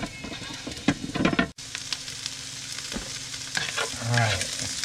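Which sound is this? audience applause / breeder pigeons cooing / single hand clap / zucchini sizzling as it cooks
zucchini sizzling as it cooks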